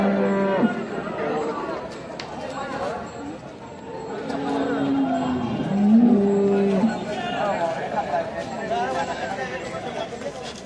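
Bullocks at a cattle market in Varkhadi low loudly in a couple of drawn-out moos midway, over a busy backdrop of crowd chatter and general market bustle.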